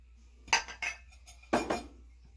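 A spoon stirring sugar into a pineapple mix for limbers, several quick clinks and scrapes against the container in two short bursts, close and fairly quiet, with no talking.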